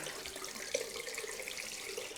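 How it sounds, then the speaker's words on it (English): Hot water runs steadily from a tap, a soft constant splashing flow at low volume. "Let the hot water come through."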